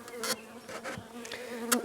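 Honey bees buzz steadily close by at an open beehive, a dense droning hum that swells and fades with a few louder passes.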